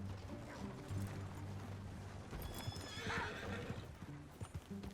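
Horse hooves clip-clop steadily with a horse whinnying, amid a busy background of Red Dead Redemption 2 game ambience, no talking.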